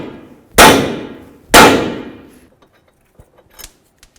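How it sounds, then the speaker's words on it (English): Two loud metallic hammer strikes about a second apart on an 18mm nut at the upper control arm of a 2006-10 Dodge Charger, each ringing and decaying, then faint small clinks and taps. "That nut on there, give it a bonk."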